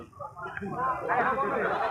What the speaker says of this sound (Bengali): এই যে প্রচুর আছে ছাগলের বাচ্চাগুলো